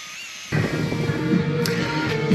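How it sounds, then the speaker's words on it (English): An 80 or 100 grit flap wheel with Scotch-Brite kicks on sharply and grinds steadily against an aluminum frame, a close, continuous whine with a rough abrasive rasp. "This, I believe it's a 80 or 100 grit flap wheel"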